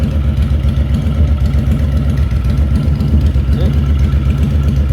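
A 2013 Honda Fury VT1300 motorcycle idles nearby with a steady, low, rhythmic rumble that holds throughout at even loudness, with no break or change in pace.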